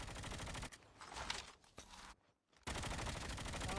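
Rapid gunfire from the video game Call of Duty crackles in quiet, dense bursts, breaking off briefly near the end before resuming.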